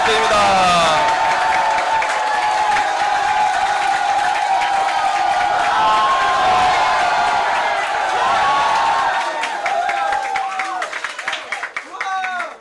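A crowd at a Korean political party youth committee launch event cheers and applauds in a loud, sustained wash of clapping and whoops that tapers off in the last few seconds.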